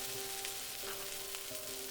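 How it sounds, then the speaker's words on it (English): Pad thai noodles stir-frying in a pan, a steady close sizzle running throughout with faint stirring scrapes and no talking. "After a few minutes stir-frying, the noodles will become slightly translucent."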